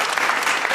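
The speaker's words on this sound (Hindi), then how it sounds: "तो ताली बजाओ।" An audience at a Hindi comedy poetry show in Ahmedabad breaks into a brief, dense burst of applause, steady and full throughout.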